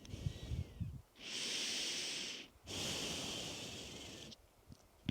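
Slow, deep breaths during a yoga child's pose: two long, airy exhales, each lasting over a second, with softer stirring before and after in a quiet room.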